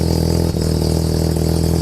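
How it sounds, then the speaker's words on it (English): A Mazda RX3 with a 12a rotary engine idles steadily up close, a loud, even pulsing drone with a slight clatter and a brief dip partway through, no voices over it. "it's such a different sound, and when it's idling"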